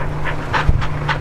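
Sled dogs on a Colorado dog-mushing outing pant close by in quick, rhythmic breathy bursts, about four puffs over a second, with a low steady hum underneath.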